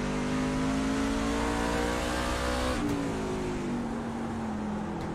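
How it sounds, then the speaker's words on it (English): Onboard engine of a race truck at Martinsville Speedway in a racing video game: a loud, steady, high-revving drone that drops in pitch at a gear change midway, then climbs again. "You can just tell right now he's really starting to put more power into that truck there"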